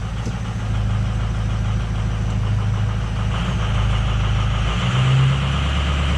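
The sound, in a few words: diesel truck engine idling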